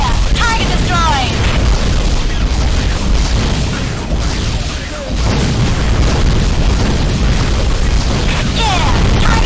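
A destroyed target explodes in the underwater game AquaNox, a roaring, sustained rumble of booms and bursts that stays loud throughout, with a brief dip midway and a voice shouting over the din.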